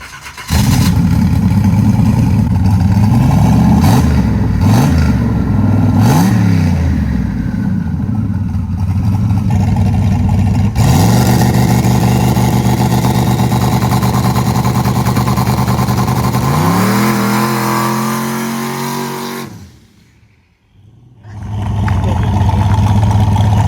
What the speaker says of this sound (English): That's a burnout right there.